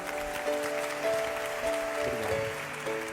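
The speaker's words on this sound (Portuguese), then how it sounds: "Vamos aplaudir o Rei Jesus," A church congregation applauds in a steady wash of clapping over sustained keyboard or organ tones, moderately loud and continuous.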